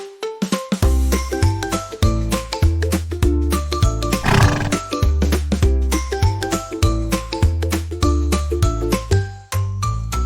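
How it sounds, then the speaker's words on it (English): A horse whinnies once amid bouncy, steady music, the neigh rising briefly out of the melody before the tune carries on. "On our farm we have a horse, neigh neigh neigh all day."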